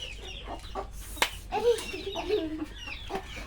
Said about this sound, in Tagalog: kumakain na po yung mga manok namin